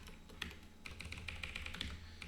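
Rapid typing on a computer keyboard during compiler coding, a quick irregular run of close, crisp key clicks at low level with no talk.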